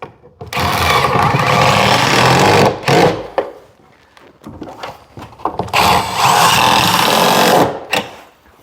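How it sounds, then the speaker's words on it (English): A power drill drives screws through a cabinet into wall studs in two loud, sustained whirring bursts of a few seconds each, separated by brief knocks and handling noise, close by. "So I'm going to put a few screws in here."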